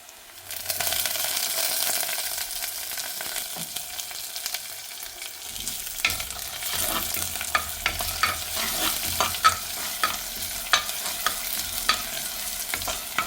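Crushed ginger and garlic hit hot oil with browned onions for a Kerala shrimp roast, starting a steady loud sizzle broken by sharp scraping stir strokes throughout.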